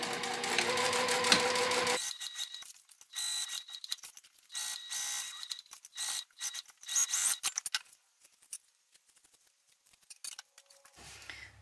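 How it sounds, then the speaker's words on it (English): A sewing machine stitches a seam around a pocket on a gaming sling bag, with backstitching at the start and stop: a steady close whir for two seconds, then several short bursts broken by pauses and small handling clicks. "I'm just going to sew around with the seam allowance given in the pattern, making sure I backstitch when I start and stop"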